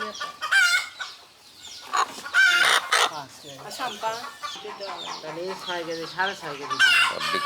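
Native farm chickens cluck in busy, overlapping bursts while a rooster crows, close and fairly loud, with the calls rising and falling throughout.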